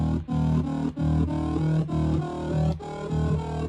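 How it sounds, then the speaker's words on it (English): A bright, raspy digital bass synthesizer tone in saw wave mode plays a run of sustained notes, each cut by brief gaps, loud and close with a rich, buzzing edge. "that's the saw wave mode."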